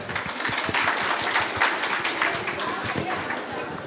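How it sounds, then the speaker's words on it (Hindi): An audience at a retirement ceremony claps vigorously, with a close, continuous patter of many hands held at an even level for a few seconds. "एक जोरदार तालियां हो जाए।"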